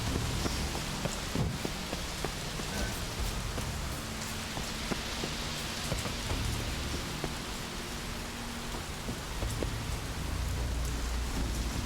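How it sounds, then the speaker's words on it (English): Steady rain falls throughout in The Witcher 3, a dense broadband hiss with scattered drop patters and a faint low rumble like distant thunder, no talking. "Looks like rain."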